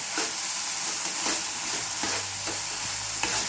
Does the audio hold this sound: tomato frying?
yes